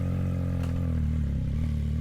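A CFMOTO 675NK motorcycle engine revs close by in a quiet residential subdivision, a steady loud drone with rising pitch and a brief mechanical clatter, no voices.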